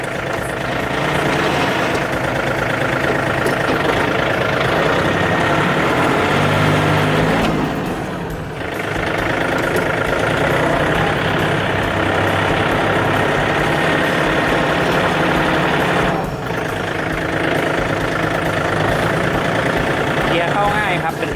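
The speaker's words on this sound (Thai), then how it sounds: "เครื่องยนต์ก็จะเป็น3สูบไดเรกนะครับ" Used Iseki or Yanmar tractor with a three-cylinder direct-injection diesel idles steadily up close, a loud continuous low rumble with two brief dips.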